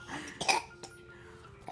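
A few short, harsh coughs from a deer, close by, with a rough throaty burst in the middle and quiet breathing between.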